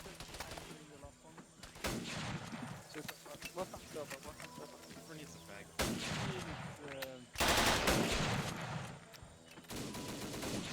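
Gunfire in Arma 3 during a Zeus-run Indochina operation: repeated rifle and machine-gun bursts and sharp shots, some loud and close, others distant, with people talking over the firing throughout.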